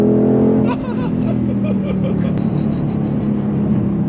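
A Shelby GT500 engine revs under acceleration at half throttle, its loud, steady, deep roar filling the whole stretch while people talk over it.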